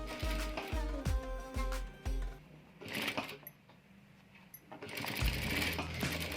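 A sewing machine stitching pleats at the armhole of a one-piece umbrella dress, running in several quick rhythmic bursts with mechanical whirring, then stopping and starting again, fairly close and alone.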